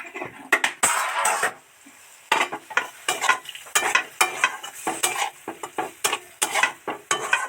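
Chopped vegetables for momos frying in a pan as a little water is added, bursts of hissing sizzle alternating with scraping and stirring of a spatula against the pan, close up with brief quiet gaps.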